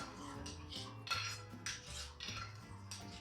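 A spoon clinks and scrapes against a bowl while mixing pizza topping with dried basil, several quick rhythmic strokes close by, quiet, with no talk.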